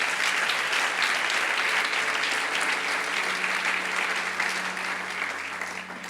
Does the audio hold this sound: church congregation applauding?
yes